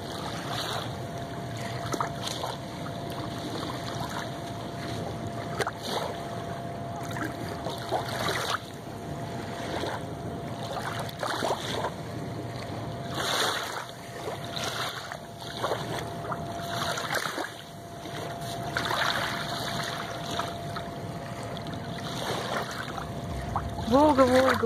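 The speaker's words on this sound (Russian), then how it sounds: "Плеск волжской воды." Gentle splashing and lapping of Volga river water at a city embankment, close and steady, with wind noise and distant crowd murmur around it.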